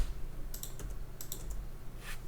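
Several quick computer keyboard keystrokes in two short clusters, then a lone faint tap, all soft against a quiet room.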